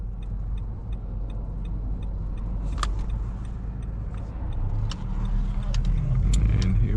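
2015 Nissan Altima S with a CVT accelerating from a stop in traffic, a steady engine hum that swells smoothly with no gear changes, heard from inside the cabin with a few clicks and rattles.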